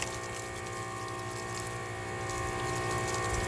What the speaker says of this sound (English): taking the tip off your power washer